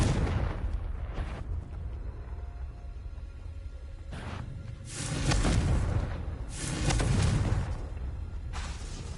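Confringo blasting curse explosions in Hogwarts Legacy, several loud booming blasts in separate bursts with rumbling tails, close and heavy.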